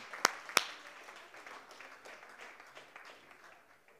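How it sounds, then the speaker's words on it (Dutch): A church congregation gives applause honoring singles, faint scattered clapping from a distance after two sharp, close claps at the start. "Gewoon door een applaus te geven."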